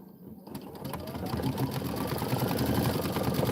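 An embroidery machine stitches out a Kimberbell tile, a dense, fast steady needle chatter that starts after a brief quiet moment and then holds loud and even throughout.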